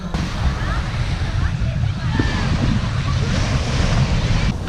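Rough sea surf rolls in steadily at the beach in Gdynia, with constant wind rumbling across the microphone and a continuous wash of waves close by, loud and unbroken.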